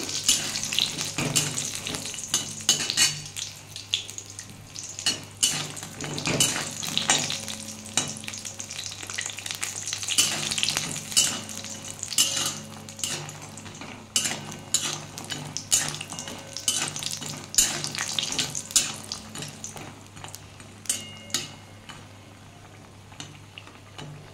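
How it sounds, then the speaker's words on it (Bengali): Bought lentil dumplings (bodi) fry in hot oil until reddish, a low continuous sizzle punctuated by clinks and scrapes of a spatula against the pan, close and moderately quiet, without speech. "বড়িটা আবার লাল লাল করে ভেজে নেবো আমি।"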